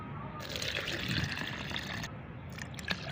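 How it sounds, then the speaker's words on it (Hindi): Tap water filling an empty jar that holds chopped pieces for homemade organic flower fertilizer, a steady close pour with a brief splash toward the end and no talking. "इसके बाद इसमें मैं पानी भर दूंगी।"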